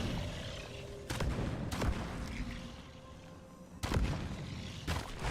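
Video game explosions go off as several loud booms and bursts, with heavier blasts near the start and around the four-second mark, over a busy game soundscape with no talk.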